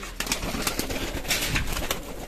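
Pigeons in a loft set in a field coo steadily and close by, with soft repeated calls overlapping throughout, occasional faint rustling, and no talking.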